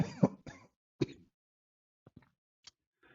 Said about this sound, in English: Oh, excuse me, I'm coughing.